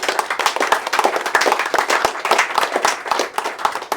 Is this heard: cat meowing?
no